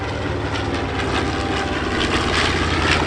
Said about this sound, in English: The A-26, one of the fastest aircraft, built by Douglas. It's approaching now from the left as the B-25 Mitchell goes by.